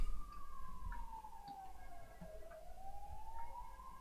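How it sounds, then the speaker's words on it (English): An ambulance siren wails outside, a single sweeping tone that falls and then rises again, faint and distant under low background hum. "Here comes the ambulance again."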